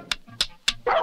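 Cartoon sled dogs barking: three sharp, evenly spaced yaps close up, followed by a longer ragged yelp.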